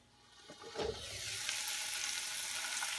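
Onions drop into a hot cast iron pan and start frying, a brief thump and clatter followed by a steady close hiss of sizzling that holds to the end.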